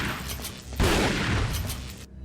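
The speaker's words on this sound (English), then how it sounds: "get away from the barrel before I start firing off the shotgun" A single loud shotgun blast in Resident Evil 4, a sudden heavy boom that rolls out and decays over about a second before cutting off.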